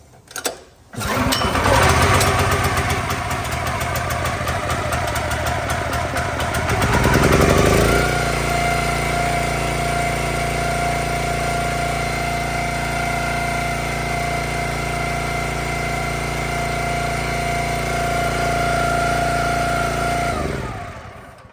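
Kohler-powered 30-ton log splitter engine, a Countyline unit, starting with a brief crank and then running loud and steady at full throttle, revving up briefly before settling into a continuous close drone until it cuts off.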